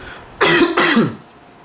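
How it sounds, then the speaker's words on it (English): Two harsh coughs in quick succession, close and fairly loud, followed by quiet. "Excuse me if I cough a little bit, getting over the flu."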